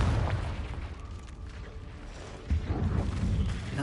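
A Confringo blasting spell erupts in Hogwarts Legacy, a deep rumbling boom with a heavy low roar that swells again in a second burst partway through, loud and without talk.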